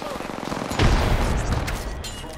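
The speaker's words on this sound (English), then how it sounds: "Frag out. I naded." A frag grenade goes off in the video game Apex Legends, a loud, close, rumbling blast that swells out of dense surrounding game noise and gunfire, then slowly trails away.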